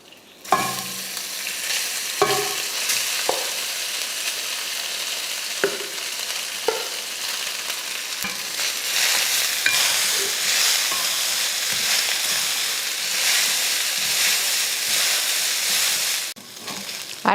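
Cooked rice being stirred in a kadai over a low flame for a lunch box dish, with repeated scraping and clinking strokes of a spoon over a steady sizzle, getting busier and denser midway, no speech.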